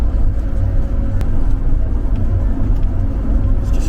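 A bus rolls along hilly roads in Romania, its engine rumbling low and loud from inside the cabin, with a steady droning whir and faint rattles throughout.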